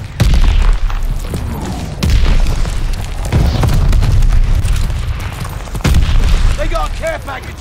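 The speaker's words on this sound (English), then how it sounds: "Friendly package inbound. Mortars incoming! Get out!" Mortar strikes land in Call of Duty Vanguard multiplayer, giving several heavy booming blasts at irregular intervals amid constant battlefield noise and game voice callouts.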